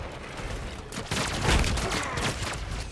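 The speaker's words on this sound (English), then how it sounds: "God damn, turrets hit so hard." Pulse turrets in The Amazing Eternals fire a dense, rapid volley of blasts and impacts, loud and close, building to a peak midway and sustaining a chaotic barrage with no voices.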